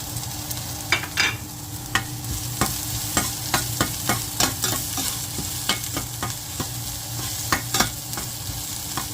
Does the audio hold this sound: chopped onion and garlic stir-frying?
yes